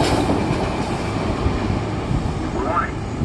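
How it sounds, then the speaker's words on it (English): A SEPTA commuter train passing a level crossing makes a steady, loud rumble and roar of wheels on the rails, with a brief rising tone near the end. "Warning, a train is approaching the crossing."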